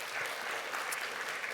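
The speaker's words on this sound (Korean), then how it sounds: "영광의 박수 올려드릴까요?" A church congregation gives a short burst of steady, dense applause, many hands clapping together at close range without any voices.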